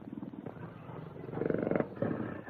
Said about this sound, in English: I vouch that Satan is the only tiger in all Africa.